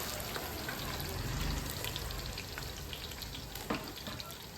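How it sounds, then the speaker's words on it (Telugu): Onions frying in oil for a double masala chicken biryani make a steady, close sizzling hiss that runs throughout, with faint stirring clicks now and then. "ఇక్కడ మనము ఉల్లిగడ్డ ఇట్లా ఫ్రై చేసేసుకుందాము"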